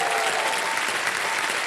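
Loud, dense studio audience applause fills the room on a television quiz show set, a steady wash of many hands clapping without pause for the whole short stretch.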